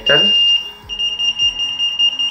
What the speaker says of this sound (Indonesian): LED dan buzzer telah berbunyi lebih cepat dari sebelumnya